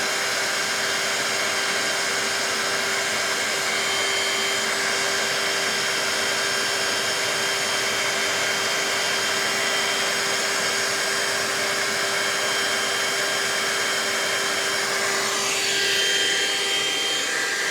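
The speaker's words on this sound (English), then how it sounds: "we can do a self-cleaning cycle. Press this button right here. You're in cleaning cycle. It's going to put solution onto the roller and suck it up." A Shark MessMaster Hydrovac WD261 wet vacuum runs its self-cleaning cycle, a loud, steady motor whine with a constant hum and rushing suction that holds unbroken throughout, with a slight gurgling shift near the end.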